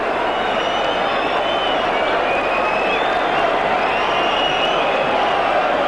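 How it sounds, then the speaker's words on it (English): A large football crowd at a 1995 Charlton Athletic v Sheffield Wednesday FA Cup third-round match roars and shouts continuously, a dense, loud wash of voices and whistles from the stands without a break. "The crowd's telling the referee where to take the throw from"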